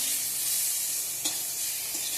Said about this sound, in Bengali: এদিকে পটল ভাজা করে নিচ্ছি।